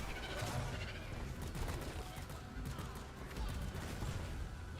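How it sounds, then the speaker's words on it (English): Mortar rounds burst in a noisy video game firefight, a dense, continuous rumble of overlapping explosions and gunfire at moderate loudness, without any clear single blast standing out. "Oh, that's fucking mortar rounds, dude."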